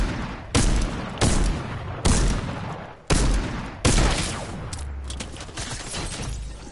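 Heavy, close gunshots from a Fortnite match crack out in a series of about five spaced blasts, each with a booming tail, before the final shot lands a headshot.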